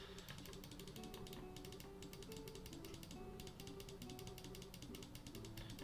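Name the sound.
repetitive clicking of buttons during a speedrun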